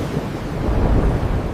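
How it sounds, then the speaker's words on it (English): Rough, surging water churns and crashes against a small wooden fishing boat on the open sea, a dense, continuous low roar with no voices. "Waves crashing against a tiny wooden fishing boat."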